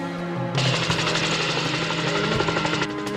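A helicopter flies overhead with a loud, continuous rotor chop and engine roar that swells after a moment and then holds steady.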